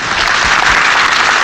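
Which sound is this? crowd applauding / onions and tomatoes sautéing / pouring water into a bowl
crowd applauding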